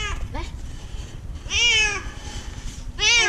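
A kitten just rescued from a deep shaft gives two loud, drawn-out meows, a brief faint cry coming before them, with background noise between the calls.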